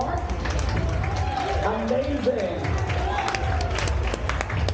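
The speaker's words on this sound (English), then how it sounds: "come on, a big round of applause for Mark." Audience applause and cheering on a cruise ship at sea, a broad crowd wash of clapping and voices held under steady background noise, with a short spoken exclamation and other talk mixed in.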